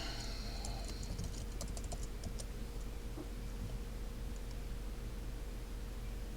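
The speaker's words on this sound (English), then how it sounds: "So I just typed in an email address, my alternative UH email address" Computer keyboard keys tapped in a quick irregular run of light clicks while entering an email address, faint and close over a steady background hiss, then thinning out into sparse taps.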